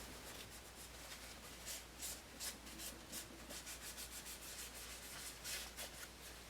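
Repeated soft rubbing strokes as a tool smooths a medium Monster Clay sculpture, each one a close, faint, dry brushing scrape in an uneven back-and-forth rhythm, with no voices.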